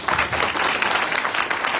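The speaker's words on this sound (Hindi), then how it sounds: "एक ताली होनी चाहिए" A short burst of audience clapping at a motivational talk, dense and fairly loud from many hands, with no speech over it.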